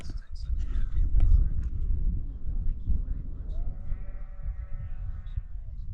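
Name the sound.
sheep bleating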